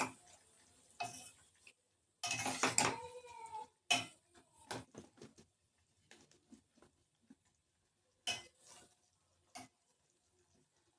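Prawns stirred in a cooking pan, with scattered clinks and scrapes in short bursts and a busy patch of sizzling and stirring early on, close and fairly quiet between gaps of near silence.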